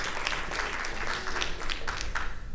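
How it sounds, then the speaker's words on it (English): An audience at a digital marketing trends talk applauds a speaker being introduced, a dense and steady patter of clapping from the crowd, moderately loud throughout. "Please give her a round of applause."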